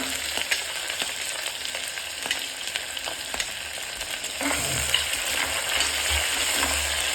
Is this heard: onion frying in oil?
yes